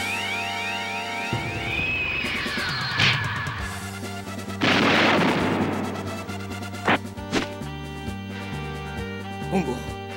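A cactus bomb bursts in the Kamen Rider PS2 game, a loud broad blast with debris crackle around the middle, set among game music, alarm-like tones and sharp impacts, with character voices heard before it.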